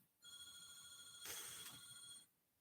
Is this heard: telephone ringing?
yes